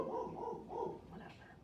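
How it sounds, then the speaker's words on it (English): A pet dog barks indoors during a kitchen clean-up, giving a couple of short, muffled barks from the background while a person talks. "Thank you, dog, for barking in the middle of this."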